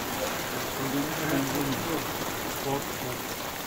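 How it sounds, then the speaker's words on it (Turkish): Small hail mixed with rain falls steadily on a garden, a dense even patter and hiss with faint ticks throughout, fairly close and uniform with no clear talk. "Dolu ama küçük. Çok küçük tanelerle yağıyor."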